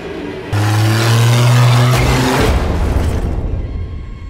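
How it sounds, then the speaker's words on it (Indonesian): A car is started and driven off in a horror film scene, a loud sudden engine roar with rising revs and a rough whooshing rush that then tails off, with no voices. "Pedro sendiri membawa Santino dan Jair dan segera mengeluarkan mobil untuk pergi."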